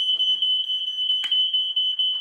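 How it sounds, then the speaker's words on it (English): A smoke alarm shrills continuously in a kitchen while a lamb smash burger cooks, a loud, steady, piercing tone, with faint voices and a clatter heard underneath. "And there goes the fire alarm."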